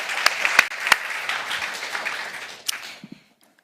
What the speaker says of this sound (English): please join me with a big applause for His Excellency Ali Mohammed.